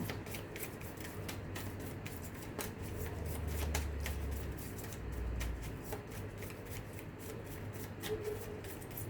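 Tarot cards being shuffled by hand, a continuous close riffling and slapping of card edges with rapid rhythmic flicks for several seconds, no talking.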